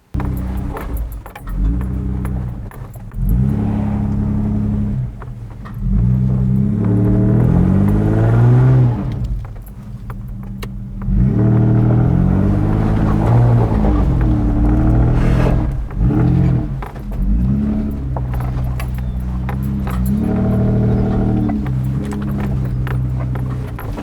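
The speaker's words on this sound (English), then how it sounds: "then we're going to go for a test drive" A four-wheel drive fitted with a Terrain Tamer diff locker kit and Harrop E Locker on a test drive: a loud, steady engine drone that rises and falls with gear changes, with light interior rattles and no talking.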